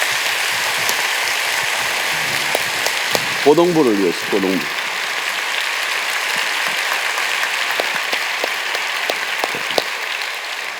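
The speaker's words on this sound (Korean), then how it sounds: "우리 중동부를 위해서 먼저 한번 박수 칩시다." Congregation applauding at a Friday night worship service in a Korean church, a steady broadband patter of clapping that runs through the whole stretch while someone speaks briefly over it.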